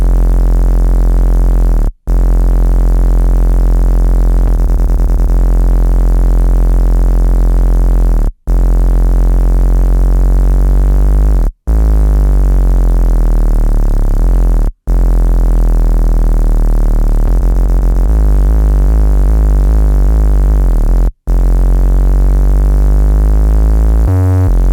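A loud, sustained electronic sub bass from the production of a track plays alone, its deep tone sliding through repeated pitch bends, with brief dropouts between phrases.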